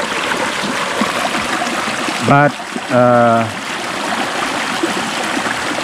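Stream water from Mount Insarog flows in a steady, close rushing trickle in a Philippine village. A voice speaks briefly over the water partway through.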